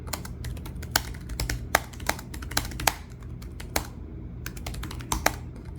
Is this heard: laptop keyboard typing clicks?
yes